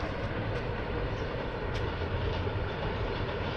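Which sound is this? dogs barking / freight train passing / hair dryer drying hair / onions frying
freight train passing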